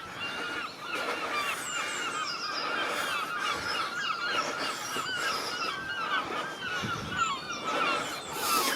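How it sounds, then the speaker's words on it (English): Gulls call and cackle continuously around an old church site on a walk beside the West Somerset mineral line, a busy, overlapping chorus of fairly distant cries. "Is that the seagulls laughing at the story?"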